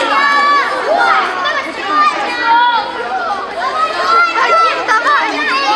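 A group of children shout and chatter together at a safety event, loud and continuous, with overlapping high voices and excited calls.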